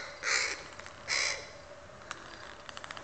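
A crow calls while playing, giving two loud, harsh caws close together, followed by a few soft clicks and taps.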